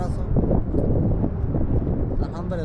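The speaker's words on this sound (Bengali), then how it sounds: "প্রচুর বাতাস" A strong, cold sea wind buffets the microphone in heavy, continuous rumbling gusts, with a voice speaking faintly beneath the roar.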